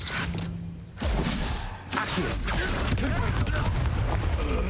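Bombarda explosion spell in Hogwarts Legacy, a heavy boom at about one second and another near two seconds, followed by rumbling debris and battle clatter, with a voice speaking over the combat.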